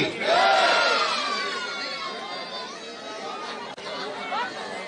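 Adults in a crowd at a Jhuggi Samman Yatra gathering shout the Hindi slogan "Bharat Mata ki Jai" in unison, a loud massed cry that peaks early and trails into overlapping voices and chatter.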